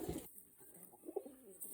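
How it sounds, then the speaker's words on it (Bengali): Pigeons in a coop with newly hatched squabs, producing soft, low coos at close range after a short rustle, quiet and without talking. "দেখতে পাচ্ছেন আমাদের কবুতরের আরো এক জোড়া নতুন বাচ্চা ফুটেছে।"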